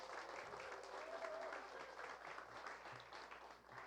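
A church study group greets a pastor presenter with steady, moderate applause that carries on for several seconds and then tapers off, with a faint murmur of voices underneath.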